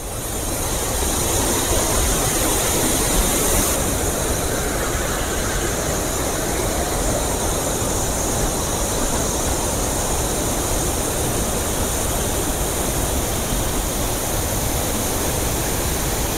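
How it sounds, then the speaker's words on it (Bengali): Gundichaghagi waterfall in Keonjhar pours with powerful force, a loud, continuous broadband roar of rushing water heard up close, steady and unbroken throughout. "জলের প্রচণ্ড তেজ। আস্তে আস্তে যাচ্ছি আমি জলের সামনে।"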